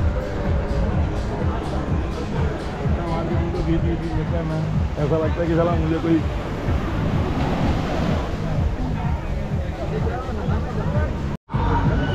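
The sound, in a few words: ocean waves washing ashore at Anjuna beach, Goa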